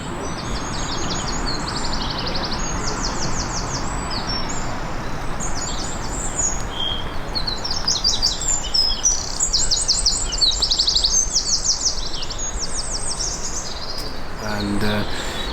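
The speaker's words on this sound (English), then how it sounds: "And there is a tree creeper." In Kilkenny, Ireland, a tree creeper gives thin, high chirps and twitters in repeated bursts over a broad outdoor hiss, fairly close and clear throughout.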